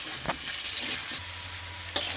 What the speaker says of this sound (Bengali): নুন হলুদ সামান্য দিয়ে আলুটা আগে ভেজে নেব